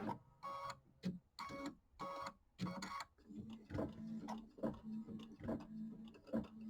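A home embroidery machine runs a tack-down and basting pass, its needle striking in quick rhythmic bursts with short pauses, then settling into a steadier ticking stitch with a low motor hum, close and clear with no talking.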